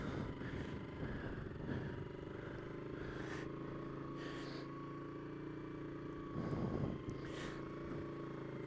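Motorcycle engine held at low revs through a slow, tight turn, the rider feathering throttle and clutch while dragging the rear brake; a steady drone with small surges near the start and around six to seven seconds, continuous and close.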